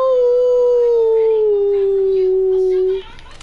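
A person imitates a wolf, voicing one loud, sustained howl close to the microphone that slides slowly downward in pitch for about three seconds before cutting off.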